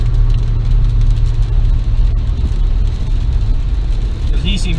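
Steady loud road roar from a car cruising fast in the left lane of a highway in heavy rain, with a broad wash of tire spray and water hiss over the low engine drone, continuous throughout.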